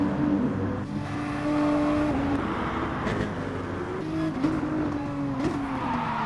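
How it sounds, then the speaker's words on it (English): A Mercedes-AMG race car in a racing video game at Dragon Trail Seaside, engine droning loud and steady as the car slides, with tire squeal and pitch shifts under continuous game audio. "Oh, a big slide for Senna there in the AMG Merc."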